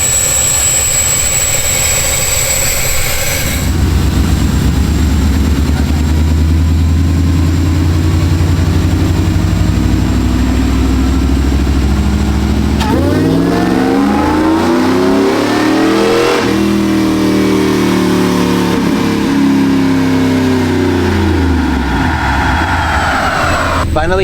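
A supercharged Chevrolet Silverado 5.3 pickup truck on a dynamometer, idling with a low rumble, then revving hard into a loud, rising engine roar with supercharger whine, climbing and falling in pitch through a long pull.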